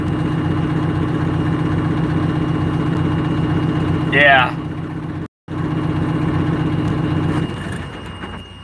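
A pickup truck sits idling with a steady, throbbing low engine drone held under intermittent talk; a short chirp cuts in midway, the sound drops out for a moment, then the idle resumes.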